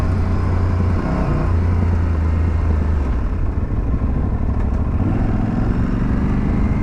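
Aprilia Tuareg 660 motorcycle riding off road on rough tracks, a loud, steady engine drone close up with a low rumble that shifts pitch slightly partway through, mixed with wind and road noise.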